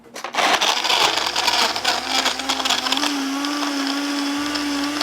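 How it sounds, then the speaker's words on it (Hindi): A blender runs loud and steady, blending peda lassi made with milk, yogurt and ice, its motor pitch rising slightly as it churns for several seconds with no talking. "और खूब अच्छे से ब्लेंडर को आपने चला देना है।"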